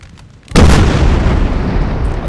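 British artillery fires in the video game Napoleon Total War during the 1800 Battle of Heliopolis. One loud, close boom lands after a quiet opening and rolls into a long, heavy rumble.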